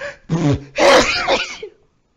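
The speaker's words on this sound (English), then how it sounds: "I sneezed." A single person sneezes close to the microphone, a short sharp burst with a quick intake and release, followed by a brief voiced tail, then silence.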